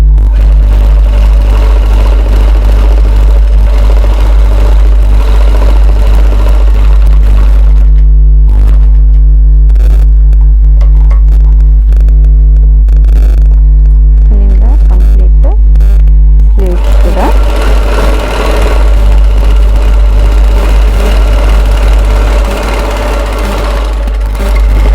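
A sewing machine runs steadily while stitching a chudidar top, a loud continuous motor hum with rapid mechanical needle chatter, pausing briefly and then resuming.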